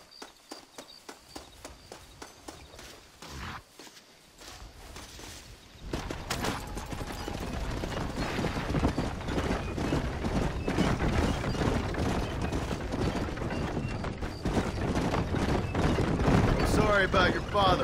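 Horse hooves clip-clop in Red Dead Redemption, a western video game, with rhythmic hoofbeats that begin faint and grow into a steady loud gallop alongside gunfire, while people talk over them.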